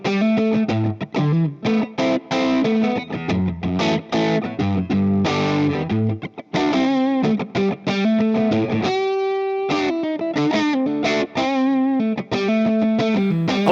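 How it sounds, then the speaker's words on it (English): Electric guitar through a JET Pedals Mr. Jax pedal at low overdrive settings strums choppy chords and riffs, bright and crunchy, with short gaps and a sustained ringing note partway through. "I was able to get some beautiful transparent overdrive-like tones in the lower stages"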